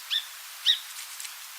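A song sparrow sings, with three short, clear, high notes spaced evenly apart and faint softer notes between them over a quiet background.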